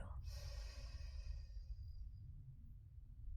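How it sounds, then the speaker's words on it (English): A single slow exhale through one nostril during alternate nostril breathing, a soft airy rush that starts sharply and fades over a few seconds, faint and close. "Exhale."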